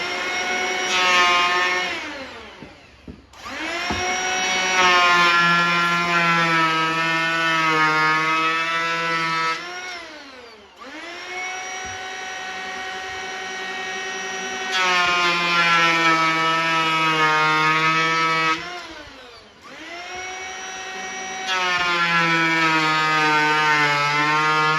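A Bauer power planer from Harbor Freight whines loudly as it planes plywood, in three long passes whose high motor pitch dips under load and recovers, separated by short pauses as the cutter spins down and back up.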